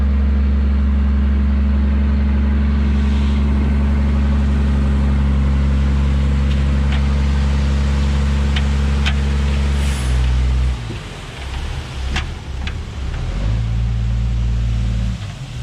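A truck engine idles steadily at a septic system installation site, a loud, continuous low rumble that drops and shifts in pitch partway through, with faint clanks over it.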